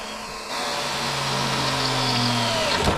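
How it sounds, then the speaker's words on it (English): Power drill cutting through a steel bracket held by a C-clamp during an E36 LS engine swap, a loud steady whirring grind that starts abruptly, holds for about two seconds with a changing pitch, then stops. "So what I'm going to do now is drill that."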